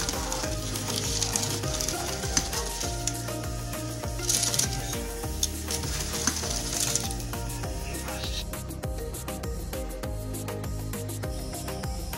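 Bugitis frying in a pan and being stirred, a steady, close sizzle with scraping, clattering stirring strokes throughout, and no voices.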